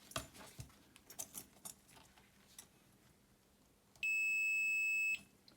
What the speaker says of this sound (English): Just check for continuity using your multimeter.